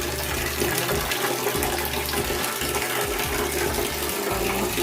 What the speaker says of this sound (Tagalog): Lakas ng tubig.